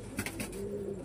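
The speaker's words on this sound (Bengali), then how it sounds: "তাহলে ভাবো কত পায়রা আছে।" Pigeons cooing nearby, a soft low throaty murmur repeating in short rolls over a steady background hum.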